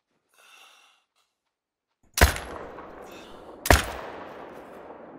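Two loud hunting rifle shots crack about a second and a half apart during a deer hunt in the video game theHunter: Call of the Wild, each with a rumbling, echoing tail, after a faint breath in near-silence.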